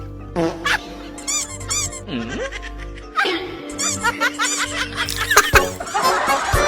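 A squeaky rubber chicken toy inside a shoe squawks in several wheezy, honking bursts, with voices and laughter around it.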